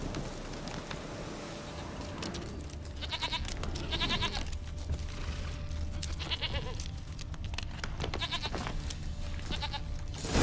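Goat bleats in The Witcher 3 video game, several short wavering calls repeating at moderate distance over a quiet outdoor ambience with low wind and crackle.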